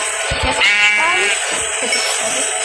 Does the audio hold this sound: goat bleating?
yes